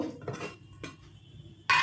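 A metallic clink of a lid set onto a pot of aloo posto with green chilli and mustard oil near the end, after a few quieter kitchen knocks and scrapes.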